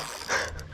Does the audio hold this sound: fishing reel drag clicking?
yes